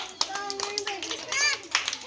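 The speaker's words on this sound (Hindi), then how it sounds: "ताली बजा दो सब लोग जरा।" A village crowd gathered for a street performance claps in a loose, scattered patter, mixed with children's voices and chatter throughout.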